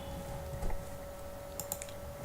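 Typing on a computer keyboard at a desk, a few soft scattered keystrokes and clicks over a steady electronic hum, close and fairly quiet.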